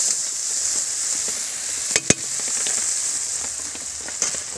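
Ground-spice water is stirred into a frying rohu fish curry: an even, bright sizzle runs throughout, broken by a couple of sharp utensil clicks about midway.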